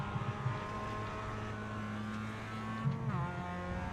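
A Mazda MX-5 Cup race car engine holds steady revs in iRacing at Laguna Seca, then drops briefly in pitch during a gear change before climbing again. The drone stays loud and continuous, with no speech.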